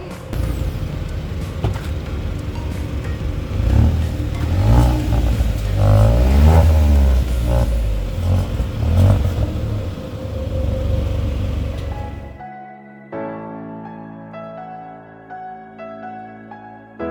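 A Hyundai i20 N-Line with a 1-liter turbo engine revs loudly through its exhaust, a sustained rising and falling engine roar that swells in the middle, then cuts off into a quieter low hum.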